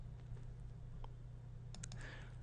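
Mouse clicks on screen radio buttons: a few faint, crisp clicks near the end over a steady low hum, with no voice present.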